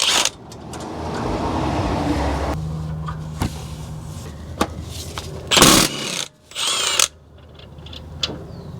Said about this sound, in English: I'm just going to use a long extension with an impact. I'm just going to take off this one first.